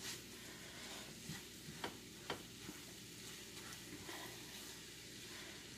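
Garlic sizzles in a pan with vegetables and toasted cumin seed for a vegetarian chili, a steady low frying hiss broken by a few sharp stirring clicks and scrapes.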